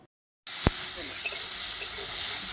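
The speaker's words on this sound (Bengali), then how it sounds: "তেলের মধ্যে আমি চিংড়ি মাছগুলি ভেজে নেব" Prawns frying in hot oil for a Bengali prawn pulao give off a steady, bright sizzling hiss that starts suddenly after a brief silence and holds evenly, with a faint click early on.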